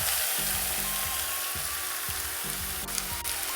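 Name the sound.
meat frying and sizzling in a pan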